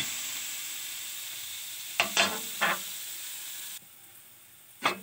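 Garlic sizzles in hot margarine in a pan as a quiet, steady frying hiss, broken by a few brief louder crackles and stirring scrapes.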